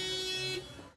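A military vehicle's horn, tested for loudness by a boy at a school yard event, blares as one loud, sustained tonal blast that breaks off abruptly.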